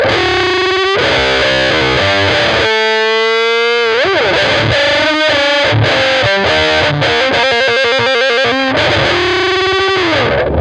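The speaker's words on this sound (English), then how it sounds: "we've got this kind of open wah sound that's kind of got this really kind of boxy, kind of nasally tone for it" Doubled electric guitar through an open wah effect with a boxy, nasal tone and heavy distortion, played loud as sweeping, vowel-like notes and chords without pause.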